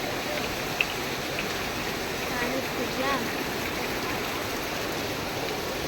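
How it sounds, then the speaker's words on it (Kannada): Heavy rain pours steadily as people move along in a queue, a dense broadband wash of falling water with a brief voice heard over it. "ಕೇಳಿಸ್ತಾ ಇದೆಯಾ ಎಷ್ಟು ಜೋರಾಗಿ ಮಳೆ ಬರ್ತಿದೆ?"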